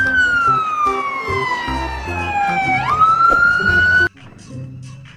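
A toy fire truck's wailing siren sweeps smoothly downward, then jumps back up, loud and close, with faint background chatter after it cuts off.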